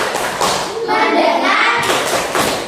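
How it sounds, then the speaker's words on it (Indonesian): Children clapping together in a classroom in a steady group rhythm of claps, led by a teacher, with a few voices chanting along. "kita tepuk-tepuk lagi. Tepuk fokus"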